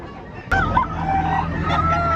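Gamecock roosters at a fighting-cock sale in Lipa City, with a sudden loud clucking and short crowing calls close by, followed by ongoing fowl chatter and a steady background hum.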